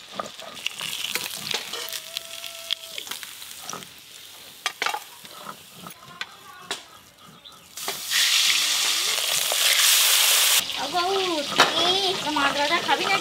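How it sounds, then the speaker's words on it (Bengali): Chandana hilsa fish frying lightly in hot oil, a steady sizzle that swells loud and dense midway, with scattered clinks of stirring and cookware handling throughout. "এই মাছ খুব কড়া করে ভাজতে নেই, ইলিশ মাছের মতো হালকা করে ভাজা হয়।"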